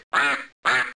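A goofy cartoon duck in the JumpStart Kindergarten computer game gives two clear, loud quacks in quick succession, each about a third of a second long with a short silent gap between them.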